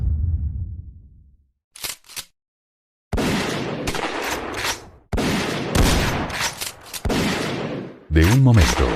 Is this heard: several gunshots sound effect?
yes